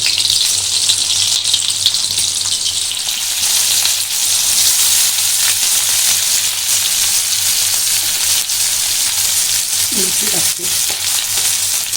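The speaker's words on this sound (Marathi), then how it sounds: "जास्त प्रमाणात लसूण घ्यायची म्हणजे झणझणीत फोडणी होते" Steady, loud sizzling and crackling of garlic frying in hot oil, continuous throughout, with a faint low hum underneath.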